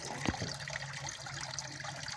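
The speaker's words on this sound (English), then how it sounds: "I added a little waterfall." A little waterfall trickles into a small backyard pond stocked with goldfish, a soft, steady splashing with one brief louder splash near the start, heard close and faint.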